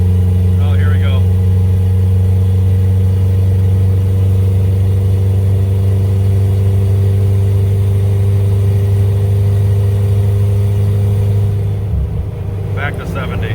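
A 1989 Dodge Raider engine at full throttle in fifth gear climbing a hill, a loud steady droning roar with strong constant low hum throughout, easing slightly near the end.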